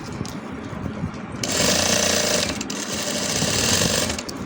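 A sewing machine stitches lace onto a dupatta in a fast, steady mechanical whir, running loud and close with a short pause before it speeds up again.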